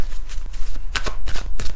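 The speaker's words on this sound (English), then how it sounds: "I'm shuffling the past life cards." A deck of tarot cards is shuffled up close: quick, loud riffling bursts repeat in a rapid rhythm with no talking.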